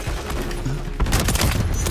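Sniper rifle gunfire in a video game, a burst of sharp shots in the second half over game background noise, with someone talking in Portuguese beneath it.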